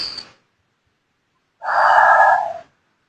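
A voice imitates the breath of life with a single long, loud breathy exhale of about one second, heard up close after a short silence, with a brief breath sound at the start.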